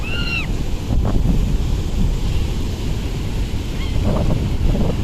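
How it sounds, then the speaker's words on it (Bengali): Large sea waves breaking at Puri beach, a continuous loud roar of surf buffeted by wind on the microphone, with faint distant voices and calls over it. "প্রচুর বড় বড় ঢেউ আসছে"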